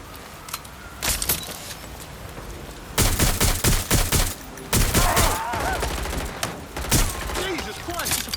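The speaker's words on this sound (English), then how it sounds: "They won't stop shooting" Gunfire in Watch Dogs: Legion, sharp single shots, then long bursts of rapid automatic fire, loud and close with brief pauses, while voices shout over the shooting.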